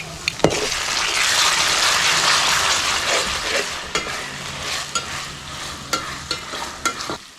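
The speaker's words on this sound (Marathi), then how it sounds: "आता इथे कांदा चांगला फ्राय झाला आहे." Onion frying in oil with ginger garlic paste, a steady loud sizzle with broadband crackle throughout, punctuated by several sharp clinks and scrapes of a stirring spoon against the pan.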